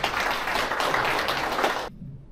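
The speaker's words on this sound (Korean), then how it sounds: "박준양 세례자 요한 시부님을 큰 박수로 모시겠습니다" A seminar audience at a Catholic business association event applauds to welcome a priest lecturer, a dense, steady clapping that holds strongly for about two seconds and then cuts off abruptly into near silence.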